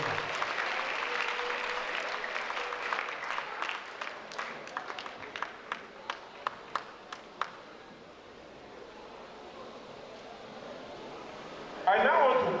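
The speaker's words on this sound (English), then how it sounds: "the principal, the vice principal, the teachers, all of them deserve a round of applause" Audience clapping for the principal and teachers at a 70th celebration, a scattered round fading into a few isolated claps before dying away, fairly faint in a large room.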